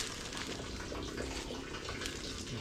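Water gushes steadily from a cracked, leaking water line, a faint continuous hiss and splash with no break.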